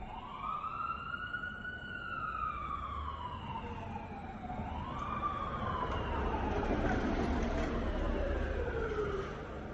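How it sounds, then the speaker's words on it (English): An ambulance siren wails loudly and sweeps up and down as the vehicle draws near and moves past, with road rumble underneath. "I'm gonna let the ambulance pass."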